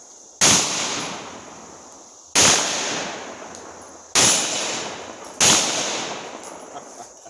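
Four loud, sharp pistol shots from a C96 Broomhandle Mauser, fired at an even pace about two seconds apart, each blast ringing out with a long decaying echo, no voices.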